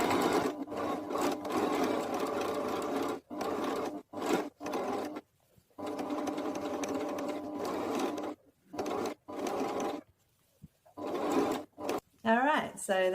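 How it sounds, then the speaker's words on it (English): A sewing machine stitches red ribbon trim onto a clown costume, running in repeated bursts of steady whirring broken by short pauses, fairly loud and close, with a person talking at times. "I'm going to be putting a red ribbon trim around the base of Lucas's one. So I'll just sew that good sides together"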